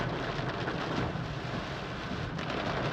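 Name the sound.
thunder and heavy rain during forest drive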